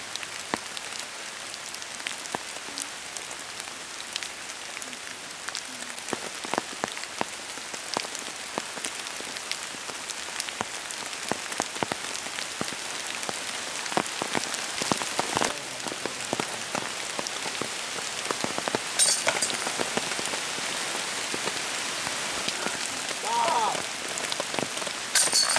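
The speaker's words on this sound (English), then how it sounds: "Rain, rain, don't rain." Rain falls steadily on surfaces outdoors at a north Georgia canopy tour site, a continuous close patter of countless drops with sharper individual taps, growing slightly heavier toward the end, with occasional faint voices.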